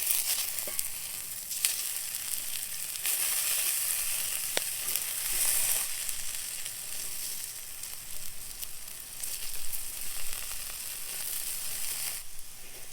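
Breakfast sizzles steadily in a cast iron skillet over a campfire, a continuous bright frying hiss with brief surges and occasional pops and scrapes, close and fairly loud with no talking.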